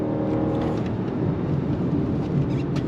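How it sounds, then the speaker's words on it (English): A 2022 Lexus RX 450h hybrid SUV with all-wheel drive pulls away hard from a dead stop, its engine and drivetrain roaring in a steady, loud, continuous drone with no speech. "I want to do some on throttle from a dead stop again"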